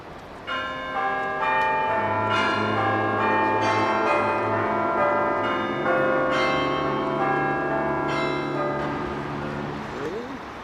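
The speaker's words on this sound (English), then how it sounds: "Here we are looking at Ivan the Great's bell tower" Church bells ring out from Ivan the Great's bell tower in the Moscow Kremlin, a full peal of overlapping tones with repeated strikes, loud and sustained throughout.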